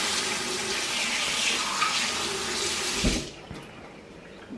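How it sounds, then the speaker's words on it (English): A spoon rinsed under a running kitchen tap while pulled pork and homemade slaw are prepared. The steady hiss of flowing water cuts off abruptly with a soft clunk, leaving quiet room tone and a faint tap. "Give it a spoon rinse."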